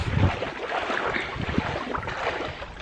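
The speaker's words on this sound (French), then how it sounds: "il y a un peu de vent, alors ça risque de pas être agréable pour vous" Wind by an outdoor swimming pool, a steady rushing buffet of gusts across the microphone, fairly loud and continuous with no speech.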